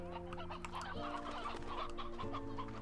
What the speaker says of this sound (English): there's so many chickens in here